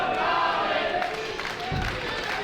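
A wrestling crowd at the London Music Hall roars and cheers wildly for Scotty Too Hottie's entrance, a dense, sustained wash of shouting voices close and loud throughout, with a low thump near the end.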